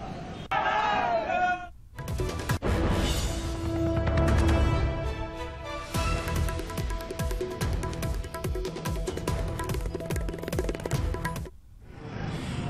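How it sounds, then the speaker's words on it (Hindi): A large political rally crowd for Narendra Modi in Agra chants slogans, a loud rhythmic mass of voices with repeated pulsing beats, broken by brief gaps at the start and end. "सबका साथ सबका विकास को लेकर नारे लगाती भीड़"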